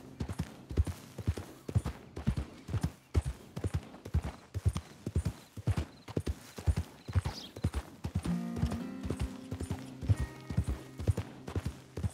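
Horses at the stables in Red Dead Redemption 2 clop along in a steady, even hoof rhythm, close and distinct, with a brief whinny partway through and some faint mechanical clinks later.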